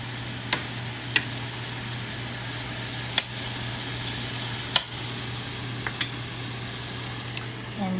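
Beef cooks over low heat in a pan with a soft, steady sizzle. Sharp clinks of a utensil striking the pan come every second or so, and no voices are heard.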